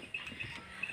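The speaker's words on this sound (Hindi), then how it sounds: "बकरी को पकड़ो" A goat bleats in a short, faint, nasal call, close by in a quiet domestic setting, lasting about a second with no speech over it.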